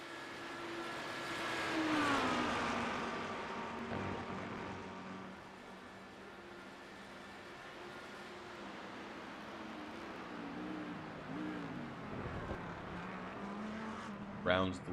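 Audi GT3 race car in a racing video game at Spa, its engine droning steadily with pitch rising and falling through gear changes as it rounds the final corner, heard under a commentator's continuous talk.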